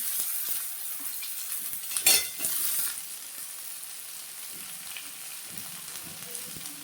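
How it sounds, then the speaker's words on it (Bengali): Sliced onion, tomato and garlic cloves frying together in a hot pan: a bright, steady sizzle with a louder crackling surge partway through, then a softer, continuous hiss alone. "এখন পেঁয়াজ দিয়ে দেবো পেঁয়াজ টমেটো আমি সব একসঙ্গে দিলাম"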